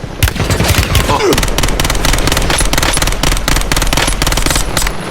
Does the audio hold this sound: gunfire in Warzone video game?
yes